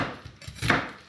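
A knife finely chopping yellow onion on a board for a bean and smoked ham hock stew, a few quick close taps in just over a second.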